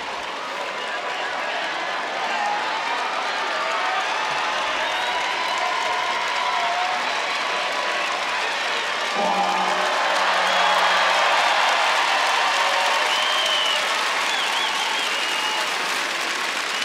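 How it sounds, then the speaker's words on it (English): Crowd cheering and applause swell in the background of a judo contest hall during a Grand Slam event, a broad steady roar that rises slightly midway, with no talk over it. "The cheering you can hear in the background there"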